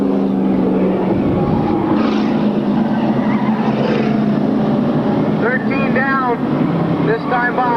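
Race cars roaring around a track during a 1998 race, with a loud continuous engine drone and shifting pitch as the cars pass, under ongoing commentary.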